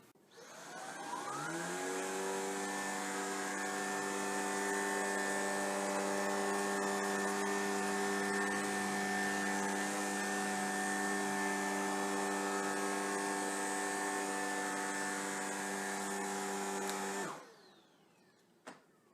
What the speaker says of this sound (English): We put chili flakes up close against our baseboards and ran the machine across it.